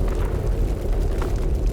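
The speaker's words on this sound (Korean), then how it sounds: "총소리 났어요." Gunfire in a multiplayer battle-royale video game, heard as a dense, continuous low rumbling boom that holds steady throughout, loud with no distinct separate shots standing out.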